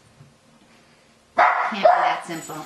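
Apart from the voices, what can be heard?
dog barking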